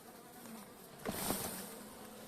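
A steady, close insect buzz of many honeybees humming together in a hive, swelling briefly in loudness midway before settling back to an even drone.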